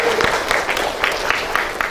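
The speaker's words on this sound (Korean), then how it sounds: "우리 하나님께 영광의 박수 올려드립시다." A church congregation at a Sunday worship service applauds together, a short burst of dense, even clapping from a room full of people, moderately loud and steady.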